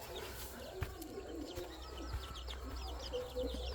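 Chickens cluck and chatter softly at close range, scattered short calls over a low background rumble, with no talking.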